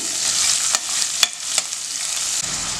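Green chillies and sliced onion being stirred in a frying pan for a mixed vegetable kurma, with a steady close sizzle broken by a few sharp scrapes and clicks of the spoon against the pan.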